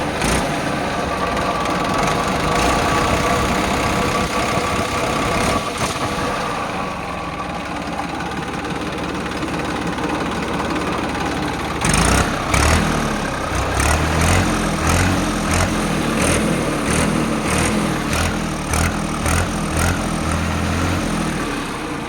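A New Holland 3230 tractor engine runs steadily nearby in a low, continuous throb, with a brief rise in intensity midway before settling into a rougher idle.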